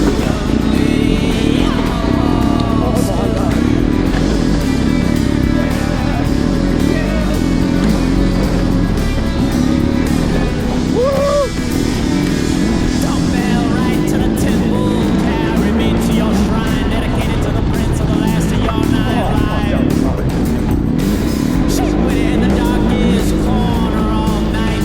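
A BMW HP2 Enduro motorcycle climbs a rocky hill during a desert race, its engine roaring loud and steady throughout with shifting revs and rough, gritty mechanical noise close by.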